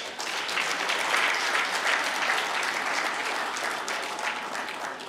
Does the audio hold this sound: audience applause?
yes